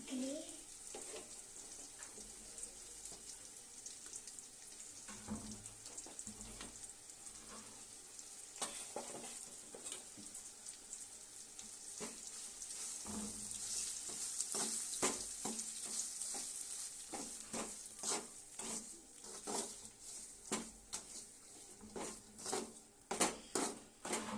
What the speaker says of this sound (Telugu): ముందుగా మిక్సీ పట్టుకున్న ఈ గ్రేవీని ఇందులో వేస్తున్నా